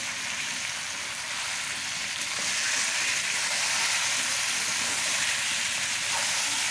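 Chicken meat fries in a wok with a dense, continuous sizzle and hiss that swells slightly louder partway through and holds steady, close and without talk.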